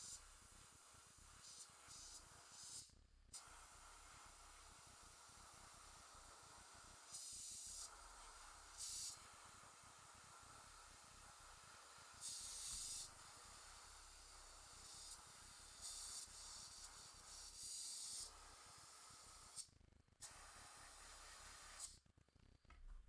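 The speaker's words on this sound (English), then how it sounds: "spraying air to get it to dry" Compressed air hisses in repeated bursts onto a painted Tyranid miniature from Hive Fleet Ancalagon to dry it, with several loud spray blasts separated by brief quieter gaps and short silent breaks, no talk.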